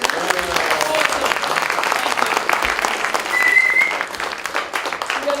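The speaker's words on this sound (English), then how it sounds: "Give yourselves a round of applause." Loud audience applause as a conference crowd claps for itself at the close of a presentation, dense continuous clapping with scattered voices and a brief whistle partway through.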